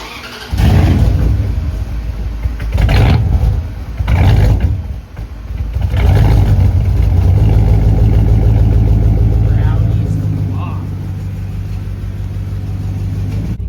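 Big block engine in a lifted Dodge truck with a 9-inch lift cranks and catches, then revs in loud bursts before settling into a steady, throaty idle; speech is faintly present.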